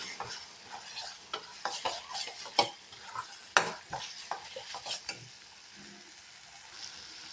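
Paneer, peas and butter masala sautéing in a pan, with irregular sharp clinks and scrapes of a spoon stirring against the metal over a quiet sizzle, the strokes close and fading out toward the end.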